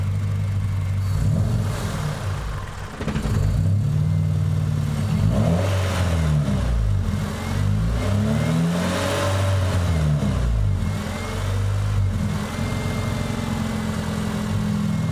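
A tuned Honda car engine, running poorly, revs repeatedly with loud rising and falling sweeps over a steady idle, the pitch climbing and dropping several times.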